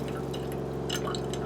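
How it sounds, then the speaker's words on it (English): Water flows and trickles steadily through the lines of a camper being filled, with air being purged as a pump runs underneath. A low, even hum holds beneath soft splashing, faint and constant throughout. "This will probably take a good 5 or 10 minutes to get it where the water's just flowing without any air in the lines"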